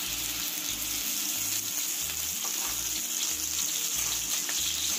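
Garlic sautés in a small amount of oil on the stove, giving a steady, even hissing sizzle that stays loud and continuous from start to finish, with faint low pulses underneath.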